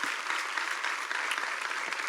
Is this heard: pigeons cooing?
no